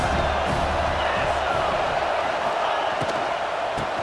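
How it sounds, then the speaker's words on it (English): Stadium crowd roar in an NCAA college football video game, a dense continuous wash of cheering with a few sharp thumps, heard under commentary. "This crowd trying to make life miserable for this offense."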